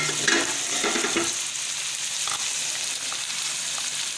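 Chopped fresh coriander is stirred into cabbage, potato and carrot bhujia sizzling in a pan, with steady frying hiss and a few spoon scrapes early on, close and even throughout.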